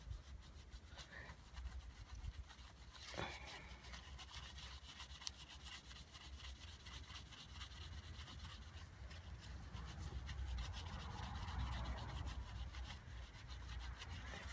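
Paper towel with toothpaste rubbed over a car wheel rim, a steady close scraping and rubbing that runs continuously, swelling slightly louder toward the end, with no talk.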